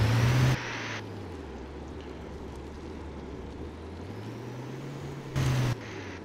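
Truck engine in a video game, a steady droning hum whose pitch slowly dips and rises as it runs, with short louder bursts at the start and near the end.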